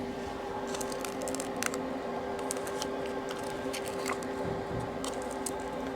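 A spoon works through a thick apple and pear crumble mixture in a bowl, giving soft, repeated wet squishes and light scrapes at close range with no talk.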